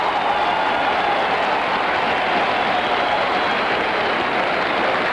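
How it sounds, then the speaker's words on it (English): A large crowd at the 1973 Belmont Stakes roars and cheers continuously after Secretariat's win, a dense, loud wash of voices and applause that holds steady throughout. "Listen to the crowd."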